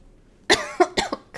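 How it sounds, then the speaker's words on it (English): A person coughs several times in a quick burst, close and fairly loud, with a quiet room behind and no speech. "I just coughed"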